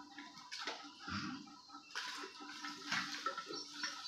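Vajadi (goat tripe) is washed by hand in water, with splashing, sloshing and dripping in irregular bursts close by, no talking.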